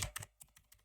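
A brief run of faint keystrokes on a computer keyboard, with four or five soft, closely placed taps in under a second and no speech.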